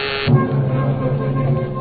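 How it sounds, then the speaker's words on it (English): Call buzzer in an old-time radio detective drama, a steady low electric zizz holding for nearly two seconds after a brief higher tone, fairly loud and close with no talk over it. "I was thinking about it when the call buzzer zizzed in my ear."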